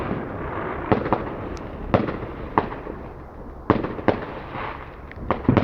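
Bonfire Night fireworks bursting outdoors, a series of sharp cracks and bangs scattered irregularly over a steady crowd-and-wind background, several loud reports close together near the end.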